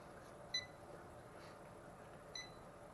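Two short, high electronic beeps about two seconds apart from a Syma X22W mini drone signalling headless mode, faint over a steady background hum.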